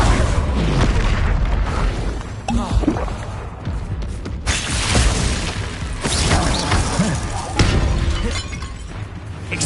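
A Bombarda explosion spell in Hogwarts Legacy on PS5 goes off as a loud burst with shattering debris, set in a dense wash of game effects and rumbling blasts.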